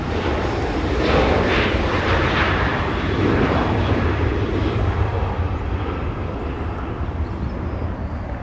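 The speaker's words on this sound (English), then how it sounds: "There goes the Dreamliner that we saw." A Boeing Dreamliner jet airliner passes over Los Angeles International Airport, a steady, loud, broadband engine roar that swells slightly early on and holds for the whole stretch without a break.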